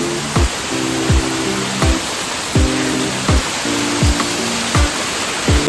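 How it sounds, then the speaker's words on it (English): A waterfall in Java roars as a loud, steady wash of white noise. Dull thumps recur at a regular pace over it, as if from footsteps nearby. "We literally go down on the waterfall."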